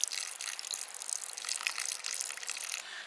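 Liquid from a tin of tomatoes and stock splashes and pours into a camping stew pot outdoors in woodland, a steady gushing, sloshing pour lasting a few seconds, close and fairly loud, with no talking.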